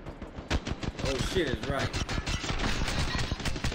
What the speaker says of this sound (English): she's shooting at a decoy